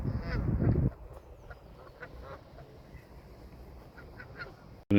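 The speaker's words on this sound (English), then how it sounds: "Maybe he's put off by the geese down there." Geese honking near a golf green at The Belfry, a loud burst of calls in the first second, then fainter scattered honks over outdoor background.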